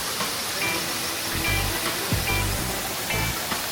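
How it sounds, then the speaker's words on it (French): A waterfall in Colombia cascades behind a picnic spot, giving a steady, full rushing roar of falling water with low rumbling surges, continuous and fairly close, with no talking over it. "Trop apaisant, la cascade derrière."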